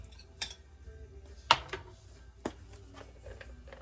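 A potato marinade stirred in a bowl, a few light scrapes and clinks of a utensil against the dish, spaced irregularly and close, in a quiet kitchen.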